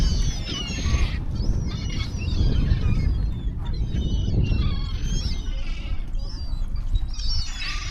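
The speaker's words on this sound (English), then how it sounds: "Gulls." Gulls call repeatedly at Marine Lake in Rhyl, a chorus of harsh, overlapping cries at close to middle distance over a steady rumble of wind and outdoor background noise.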